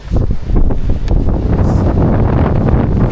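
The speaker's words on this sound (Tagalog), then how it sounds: "Grabe yung hangin." Strong typhoon wind buffets the microphone outdoors at a hillside cafe, a loud continuous roaring rumble with gusty surges and no pause.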